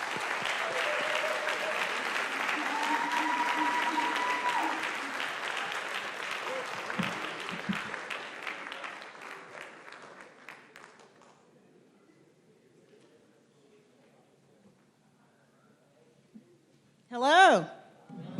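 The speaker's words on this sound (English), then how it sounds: "Let's give a round of applause to President Mason." An audience applauds for President Mason at a college convocation, steady clapping that swells, then gradually thins and dies away into near silence before a brief burst of sound near the end.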